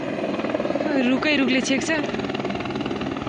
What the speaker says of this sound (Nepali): हेलिकप्टर अब ल्यान्ड हुन लागिरहेछ